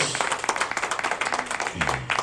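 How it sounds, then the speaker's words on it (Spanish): A church congregation applauds during a sermon with brisk, rhythmic clapping of moderate loudness across the short stretch, set against a faint background hum. "Denle un aplauso a Cristo."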